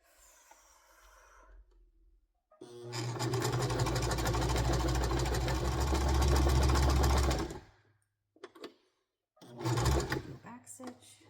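A household sewing machine back-stitches dress pants, running in one long steady whirring burst, then pausing before two shorter bursts, close and fairly quiet with a soft voice between runs.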